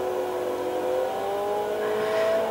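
Ford Escort TTC-51 MKII race car at speed on the Nordschleife, its engine holding a steady whining drone with harmonics that rise slightly as it settles through a corner, close and continuous with no talk.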